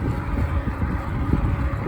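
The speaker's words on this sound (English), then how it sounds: "Back riding in the wind again." Strong wind buffets the microphone while someone rides an Ecotric e-bike, a loud, constant low roar and rumble with no break.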